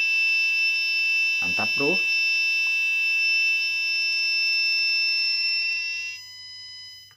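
A 5V electronic buzzer sounds a steady, piercing high-pitched tone for about six seconds, then cuts off; someone briefly speaks over it near the start.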